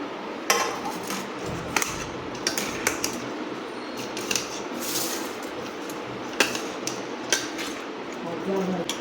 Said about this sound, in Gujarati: હવે આપણે બીજો ગોળ ઉમેરતા જઈને આપણે બધું મિક્સ કરી લઈશું